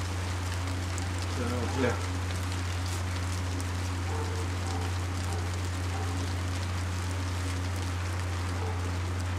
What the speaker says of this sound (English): Oh, and it's starting to rain too.